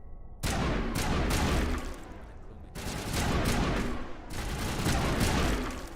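Rapid bursts of gunfire from a Mass Effect Legendary Edition firefight, dense volleys of shots broken by short pauses, loud and close throughout.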